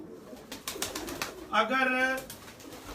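Pigeons give one clear cooing call about halfway through, close and distinct, while someone talks in Hindi over and around it.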